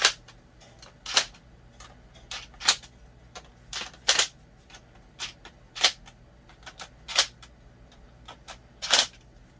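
Battery terminal bolts on a 48V solar battery bank being snugged down with a tool, heard as a series of sharp, irregular metallic clicks and ratchet ticks, close and distinct over a quiet background.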